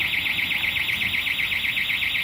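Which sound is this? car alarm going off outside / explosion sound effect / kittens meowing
car alarm going off outside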